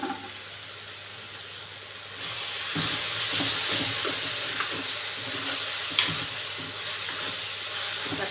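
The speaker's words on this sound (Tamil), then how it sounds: "காய் வேகுதுங்க." Vegetables simmer in a pot with dal, giving a continuous bubbling hiss with soft stirring and clinking touches that grow slightly louder midway.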